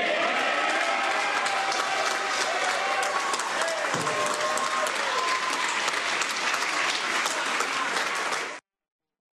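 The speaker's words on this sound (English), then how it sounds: "catch that cheering for Peter Dutton?" A large crowd applauds and cheers for Peter Dutton at an Australian political event, loud dense clapping sustained throughout before cutting off abruptly near the end.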